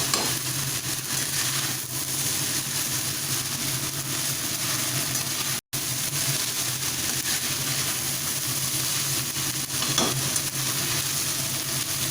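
Vegetable noodles stirred and tossed in a hot pan, a steady loud sizzle and frying hiss with scraping of the spatula running throughout, broken by one brief dropout.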